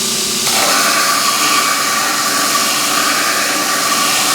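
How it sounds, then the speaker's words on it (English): Loud, continuous grinder roar as a forged draw knife blade is ground and throws sparks, a steady harsh abrasive hiss filling the whole clip with no talking. "I'm watching these sparks because when they start to jump over the blade or bounce off the top of the blade, I know I'm getting thin"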